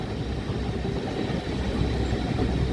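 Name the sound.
small locomotive Judy on the Dean Forest Railway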